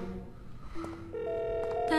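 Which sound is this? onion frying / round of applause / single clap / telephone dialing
telephone dialing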